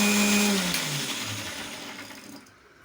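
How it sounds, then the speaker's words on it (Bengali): A mixer grinder purees boiled tomatoes into a paste, giving a loud, steady whirring roar that gradually weakens and then winds down to near silence at the end, with no talking. "এরপর টমেটোগুলোকে মিক্সিতে পেস্ট করে নিয়েছি।"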